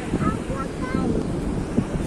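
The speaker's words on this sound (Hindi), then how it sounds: "और ये समंदर की लहरें जो है ना आज पूरे जोश में" Strong cold wind buffets the microphone on a sunny Spanish beach while rough sea waves surge in a steady broadband roar, close and continuous, with a voice speaking over it.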